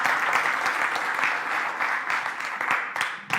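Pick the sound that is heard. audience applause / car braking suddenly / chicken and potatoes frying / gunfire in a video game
audience applause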